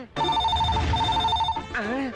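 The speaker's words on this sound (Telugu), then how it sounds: "phone మోగేసింది phone మోగేసింది" A telephone rings steadily with a repeating electronic tone, loud and close, stopping near the end as a voice begins speaking.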